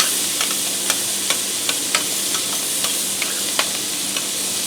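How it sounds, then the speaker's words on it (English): Capers stirred in sizzling butter in a pan, with a steady close hiss and light, regular clicks of a spoon against the pan, about one every half second, and no voices. "You just want to stir them around in your butter for a minute."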